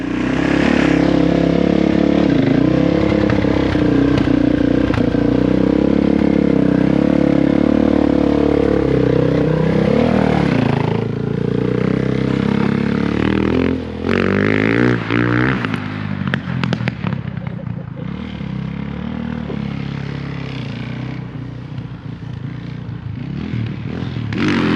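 A Suzuki DRZ400S single-cylinder motorcycle engine idles loud and close, a steady rapid thumping drone with rough clattering and a brief rise in revs midway, continuing without a break.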